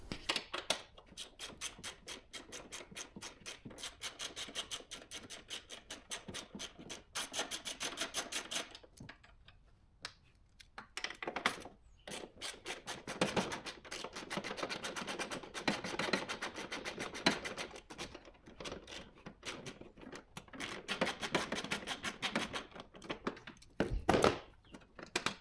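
Undoing 10mm bolts on the ECU of a Vauxhall Vivaro / Renault Trafic van, with a long run of quick, rapid ratchet clicks broken by brief pauses and a few louder knocks, close up and fairly quiet.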